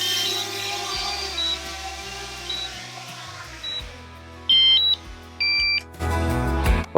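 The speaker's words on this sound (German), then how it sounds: "mit wenig Akku fängt das an höllisch zu nerven und zu piepsen" A series of short electronic beeps at irregular intervals from a DJI Mavic Mini drone's low-battery warning, some brief and high, others longer and louder, over a low mechanical hum.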